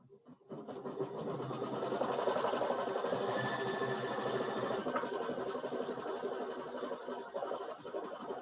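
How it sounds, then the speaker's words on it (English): A Baby Lock embroidery machine stitches the back piece onto an in-the-hoop mouse pad, giving a steady, close mechanical whirr with fast rhythmic needle chatter that carries on unbroken for the whole stretch after a brief start. "I'm going to let it stitch down that back piece now"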